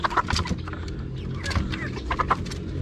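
Backyard chickens, roosters and hens together, clucking in short scattered bursts at moderate distance over a low background murmur.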